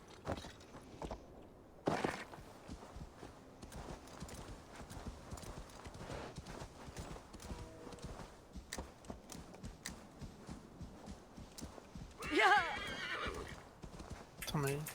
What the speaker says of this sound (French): Mais qu'est-ce qu'il fout mon cheval tout en haut?